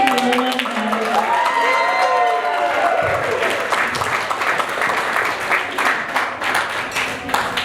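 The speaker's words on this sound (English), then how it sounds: "Let's have one more big round of applause for the maid of honor, Vivian" Wedding guests cheer and applaud loudly, with voices whooping over the clapping at first before it settles into a thick, continuous round of clapping from a close crowd.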